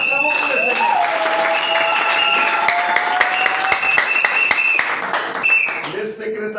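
A church congregation at the Branham Tabernacle in Fungurume applauds in a dense, continuous burst of clapping, with voices rising over it before it fades at the end.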